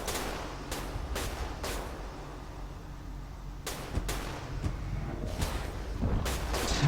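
Ships firing on a frigate in a Stardrive space battle, a series of sharp separate shots at uneven intervals over a low rumbling background, moderately loud and without talk.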